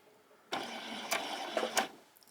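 A sewing machine stitches a quarter-inch seam around the fabric of a pajama top in one quick, whirring run of about a second and a half, with a few louder mechanical clicks before it stops.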